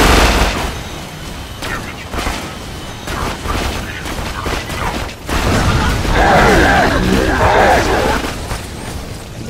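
Pimpernel sniper rifle fire in the Borderlands 2 boss fight against Hyperius, with loud booming shots and layered gunfire and explosions amid game noise.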